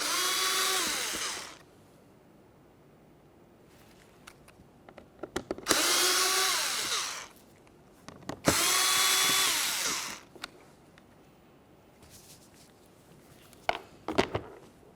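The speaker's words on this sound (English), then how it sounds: "Let's start with removing all 3 of those screws." A power screwdriver or drill backs Phillips head screws out of the interior door panel of a 2012-2018 Nissan Altima, with three loud whirring bursts of a few seconds each and a short final buzz.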